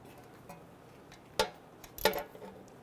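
Bolt snugged down on an ABS sensor in the steering knuckle of a 2003-2008 Honda Pilot, heard as two sharp metallic ticks about half a second apart over a quiet background.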